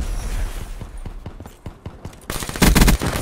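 Rapid bursts of gunfire from the Black Ops 3 shooter game crackle in a steady rhythm, then give way to a denser, louder volley of shots and blasts near the end.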